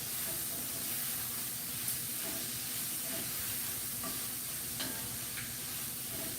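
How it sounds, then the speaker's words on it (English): Chicken and vegetables for a Chardonnay braise sizzling hard in a pan while being stirred, a close, steady hiss with occasional spoon scrapes and small clicks. "Now we're gonna give that a stir."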